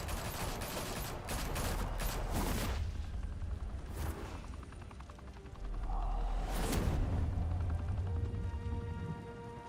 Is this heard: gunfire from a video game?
yes